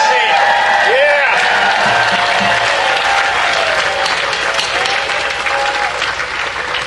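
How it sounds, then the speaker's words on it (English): A large rally crowd outdoors at a protest applauds and cheers, dense sustained clapping with scattered whoops and shouts rising above it, loud and continuous. "Give yourself a round of applause."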